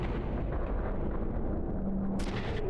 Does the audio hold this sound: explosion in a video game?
yes